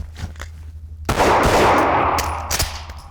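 Gunfire at a shooting range during a drill with a simulated misfire: a few sharp, loud shots ring out with a sustained burst in the middle and a gap where a round fails to fire.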